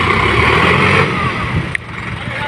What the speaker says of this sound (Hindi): सोनाली का ट्रैक्टर, DI50 ट्रैक्टर है सोनाली का।